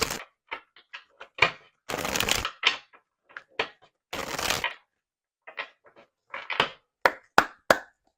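Oracle cards are handled and shuffled in irregular bursts, with crisp riffling rustles, snaps and taps of the deck close by and quiet gaps between.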